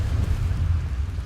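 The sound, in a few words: Bombarda explosion spell in a Harry Potter video game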